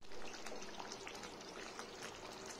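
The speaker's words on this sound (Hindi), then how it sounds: "हाफ ग्लास पानी मैंने इसमें ऐड कर दिया है" Half a glass of water goes into fried spices in a pan for an eggplant curry, a faint, steady trickling pour with soft sizzle-like hiss lasting a couple of seconds, with no voices.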